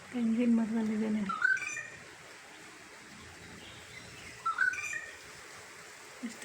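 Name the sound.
bird singing in a coconut tree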